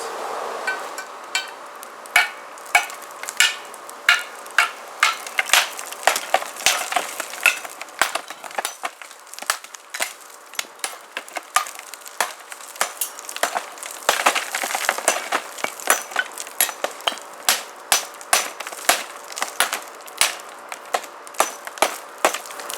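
An Ontario Gen II SP48 machete chops into a heavyweight cinder block, a rapid series of sharp, loud cracking impacts with gritty crumbling between strikes, continuing unevenly throughout without speech.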